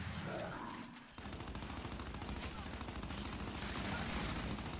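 Rapid, sustained Lancer rifle fire in a ranked Control match of the video game Gears 5, a dense stream of repeated shots continuing for several seconds.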